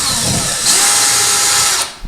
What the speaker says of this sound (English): or you can do it with your electric screwdriver, whichever works